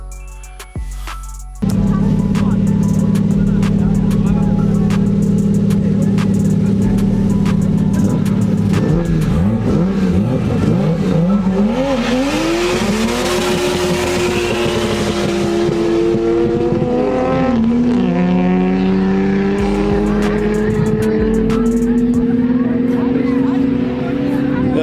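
A motorbike engine roars loudly up close in Bulawayo, revving hard as it races past, its pitch sweeping and shifting as it speeds away.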